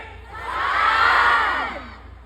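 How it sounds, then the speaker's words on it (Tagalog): A concert crowd at a music festival roars loudly together, the shout swelling to a peak and fading over a couple of seconds, with no single voice standing out. "Sigaw kayo nung saan, yung malakas ha."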